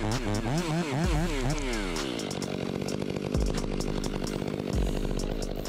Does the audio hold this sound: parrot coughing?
no